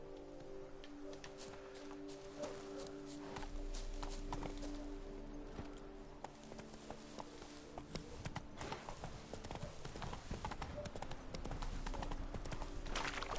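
Rhythmic clip-clop of horse hooves from The Witcher 3: Blood and Wine, a steady close gait throughout, with a low musical drone and faint ambient tones underneath.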